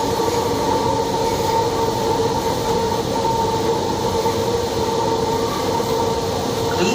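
Steady rumbling ambience inside a moving Kochi Metro train, continuous wheel and motor drone with a faint tonal hum, even and close, with no talking.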